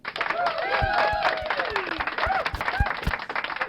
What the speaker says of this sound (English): we gotta clap for that.